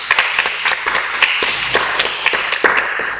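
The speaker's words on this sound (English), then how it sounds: "A round of applause for him once again." Audience applause at a team forum, a dense steady patter of many hands clapping close by for about three seconds with scattered louder claps, no voices over it.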